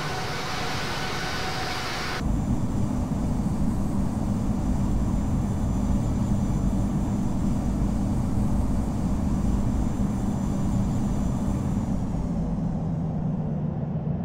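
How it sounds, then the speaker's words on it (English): A Boeing 737 taxis in the flight simulator Infinite Flight, a steady low engine hum and rumble from inside, beginning after a brief louder burst and slowly fading in pitch at the end. "Taxiing to runway 31 right"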